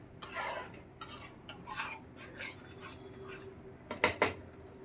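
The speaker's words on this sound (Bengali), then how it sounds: "এবার এটাকে ভালো করে নেড়ে চেড়ে আমি এবার কিছুক্ষণ ঢাকা রাখবো" Rohu fish korma stirred in a pan with a spoon, scraping and clinking softly up close, followed by two sharper metallic knocks near the end as a lid goes on.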